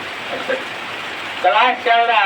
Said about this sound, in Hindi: थोड़ा इस वीडियो में बारिश का आवाज आएगा